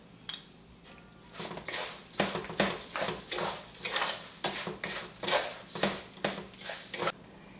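Chorizo frying for paella valenciana, heard as steady sizzling broken by rapid scraping and stirring strokes against the pan, close and fairly loud.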